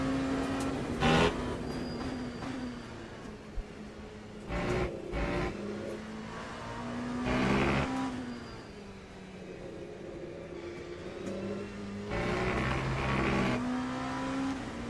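Race car engine in a video game revving up and down with repeated downshifts, the pitch climbing then dropping, interspersed with bursts of mechanical noise and clunks.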